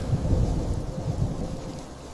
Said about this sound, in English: A storm that claimed the ground it stood on. A massive cloud, veins of lightning pulsing like a heartbeat.